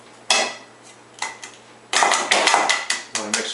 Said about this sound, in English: I'm going to mix it right in there.